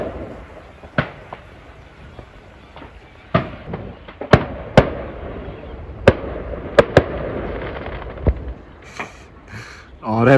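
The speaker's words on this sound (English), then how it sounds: "Oh, they're proper rubbish fireworks" Fireworks set off from a garden go off as scattered sharp bangs and crackles, some loud and close, others duller, over a rumbling outdoor background with a voice briefly audible.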